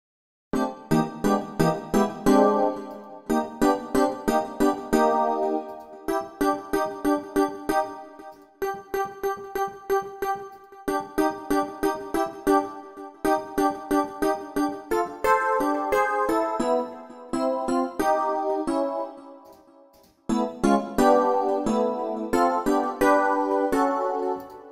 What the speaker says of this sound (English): You can also define how many notes are being played in the chord, all four notes or less than four notes.